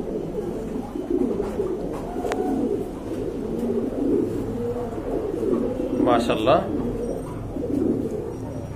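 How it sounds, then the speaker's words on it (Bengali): A pair of red Rajgolla pigeons cooing softly in a low, rolling rhythm nearby, with a person speaking over them and a brief sharper sound partway through. "দেখেন কত কিউট এক জোড়া কবুতর, রাজগোল্লা কবুতর"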